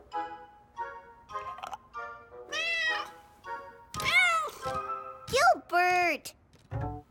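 A cartoon cat in a children's show meows repeatedly, a string of short and drawn-out cries of varying pitch, some loud and strained, clear with no talk.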